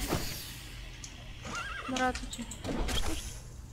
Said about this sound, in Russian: Это моя лошадь меня догнать пытается или что?